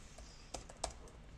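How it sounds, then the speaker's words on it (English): Typing on a Windows computer keyboard at a JavaScript meetup talk, a few faint, scattered key clicks with two slightly sharper taps, quiet and close against room hush. "I always have to type on a Windows keyboard"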